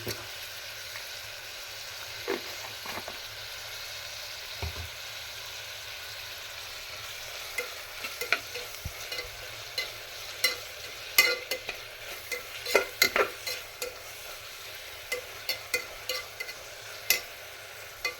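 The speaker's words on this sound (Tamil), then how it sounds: "இது கொஞ்சம் வதங்கட்டும் நல்லா வதங்கணும்" Food sizzles softly in a pan while cooking wheat upma, a utensil scraping and tapping against it, the stirring clicks growing more frequent over a steady frying hiss.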